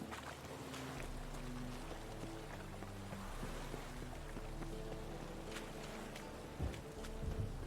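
Steady rainfall in The Witcher 3: Wild Hunt, a continuous hiss that stays even throughout, with a low hum and faint tonal background beneath and no voices.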